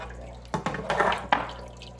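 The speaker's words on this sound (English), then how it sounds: "you can see my water is coming through, no problem. It's coming right through the biological media there bag, and it's flowing right over the top there" Water from a Seachem Sicce Tidal hang-on-back aquarium filter pours through a bag of biological media and spills over the top, a steady trickle broken by a few louder splashy drips and knocks, heard close with no talk.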